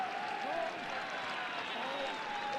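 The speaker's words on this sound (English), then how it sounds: "warmly appreciated by this Stade Gilbert Brutus crowd" Rugby league stadium crowd at Stade Gilbert Brutus applauding steadily, a dense continuous wash of clapping and cheering under a commentator's voice.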